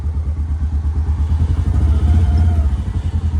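A John Deere Gator utility vehicle engine runs at a salvage auction yard, a steady close, loud low-pitched throbbing chug that swells slightly toward the end.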